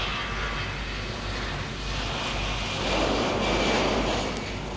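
Airbus A320 jet engines at takeoff thrust, a steady loud broadband roar heard from inside the aircraft, swelling slightly partway through with no talk over it.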